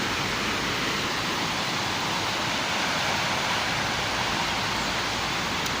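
A waterfall at Cachoeira Cascata in Nova Friburgo roars as a steady, dense broadband rush, loud and unbroken throughout with no voices.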